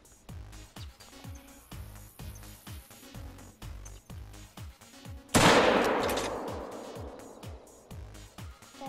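A hunting rifle fires at a piebald mule deer: one loud, sharp crack that rolls away in a long fading echo, preceded by a steady rhythmic low thumping.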